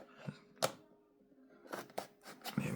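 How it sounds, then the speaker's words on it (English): Scissors cut open the plastic packaging of a USB card reader, a few quiet, close snips and crinkles with pauses between them. "So we shall cut it open."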